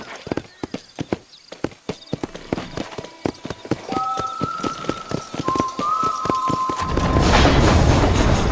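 A horse gallops in the Red Dead Redemption western video game. Its hooves clop in a fast, even rhythm that speeds up, with tones and a rising wind-like rush later on and some voices mixed in.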